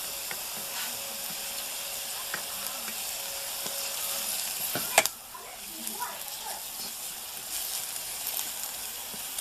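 Sweet potato leaves sizzle steadily as they cook in a pan, a constant bright frying hiss with a few soft clicks of stirring and one sharp clatter midway, then the sizzle continues a little quieter.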